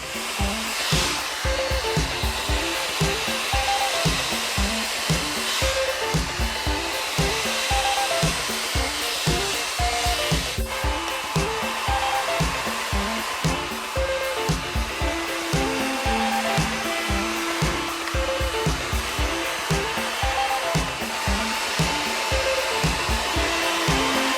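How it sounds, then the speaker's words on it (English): Hair dryer blowing continuously and loudly throughout, its airflow shifting slightly in a rhythmic pattern as it is moved through the hair during directional blow drying for a dance hairstyle. "I'm just going to continue with my directional blow drying."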